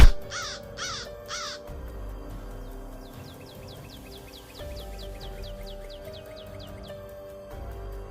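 Three loud, harsh crow caws open the scene, followed by a rapid series of fainter chirping bird calls over a low background hum, as a flock of birds attacks a lion.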